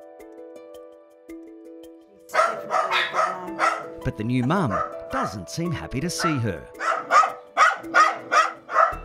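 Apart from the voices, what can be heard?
dog barking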